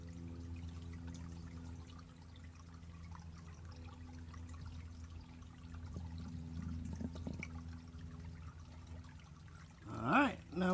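A water bottle fills from fast-flowing water in the Myakka River in Florida, giving a steady, soft gurgle and trickle, close and low, with a brief louder splash near the end.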